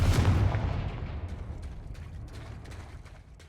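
A Confringo fire spell explodes in the Hogwarts Legacy video game, hitting first as a loud, close blast, then trailing into a rumbling decay with faint crackles and pops.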